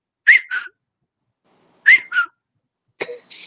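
A person whistles to imitate a little whistle heard in the woods: two matching short two-note whistles separated by silence, then a brief higher sharper call, clear and close.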